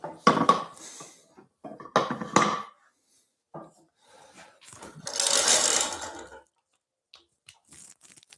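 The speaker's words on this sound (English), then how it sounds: "Love the DeWalt planer, but it is loud." A DeWalt thickness planer feeds small wood pieces in short, loud bursts of roaring, chattering cutting, separated by near-silent gaps, with one longer harsh pass near the end.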